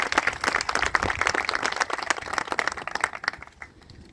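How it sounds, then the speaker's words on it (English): Round of applause from a crowd at an outdoor historical marker dedication, brisk clapping of many hands, moderately close, tapering off near the end, with no talking. "So now we can give everybody a big round of applause."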